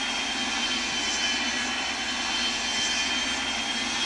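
Simulated airplane engine from the Real Flight Simulator game, a steady, even drone holding at the same loud level throughout with no breaks and no voices over it.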